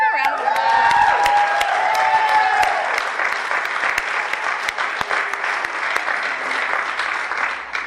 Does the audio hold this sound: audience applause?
yes